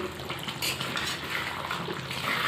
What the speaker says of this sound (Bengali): ভালো করে এভাবে নেড়ে দেবো